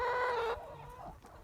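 Farm chickens cluck near the cattle pen, with a loud, drawn-out call at the start, then softer short clucks and faint bird noise behind.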